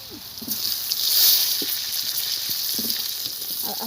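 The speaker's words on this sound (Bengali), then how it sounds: "তাই ওই সিম ভাজার তেলেই আমি এবার আলুগুলো দিয়ে দেবো।" Cut potatoes fry in a pan of oil left over from frying flat beans, giving a steady close sizzling hiss with a few faint scrapes and taps from stirring; no one speaks.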